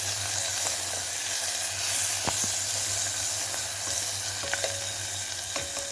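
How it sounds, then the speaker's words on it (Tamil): Spices and horse gram sautéing in hot oil for horse gram rice, a steady close sizzle and hiss with occasional scrapes and taps of a stirring spoon, no voices. "இப்போ கொள்ளை சேர்த்து நல்லா வணக்கி எடுத்தாச்சு"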